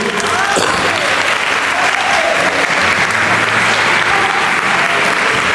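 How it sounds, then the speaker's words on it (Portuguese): A church congregation breaks into loud, continuous applause, a dense wall of clapping with crowd voices mixed in underneath. "Aplaude aí, cristão, aleluia"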